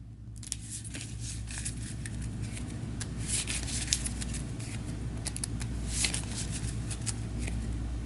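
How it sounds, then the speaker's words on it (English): Tarot cards being shuffled by hand, a soft, continuous riffle and rubbing patter heard close but faint over a low background hum, with no talking. "Give this deck a shuffle."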